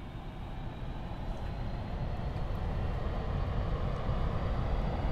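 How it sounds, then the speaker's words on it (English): A MiG-19 jet engine in the flight simulator DCS World spools up slowly, a steady broad roar that swells gradually in loudness over several seconds, heard alone. "The engine spool time is very slow on the MiG-19"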